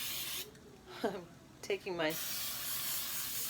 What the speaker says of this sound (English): So I'm just going to spray each corner here, the whole pan, corners, everything.